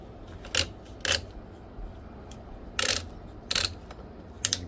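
Ratcheting crank on a Thule Epos 2 bike hitch rack tightened on a 2021 Toyota Highlander, giving five sharp bursts of clicking in two groups with short pauses between, close and alone.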